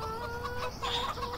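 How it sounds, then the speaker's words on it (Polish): Farm hens cluck close by at feeding time, a few short, wavering calls overlapping one another against a soft background murmur. "O, widzicie, to jeszcze na koniec materiału mogę kury nakarmić"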